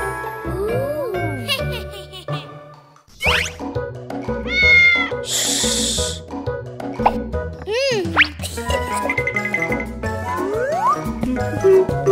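A cartoon cat meows repeatedly in a children's animated show, with rising and falling cries over bright music, jingling chimes and cartoon sound effects; a child-like voice speaks briefly.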